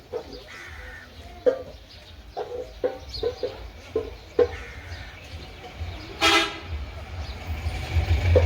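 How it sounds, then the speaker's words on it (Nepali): Rooster crowing and hens clucking in a Nepali hillside village, a string of short, fairly close calls with a longer crow near the end over soft outdoor wind noise, no talk. "ए भाले"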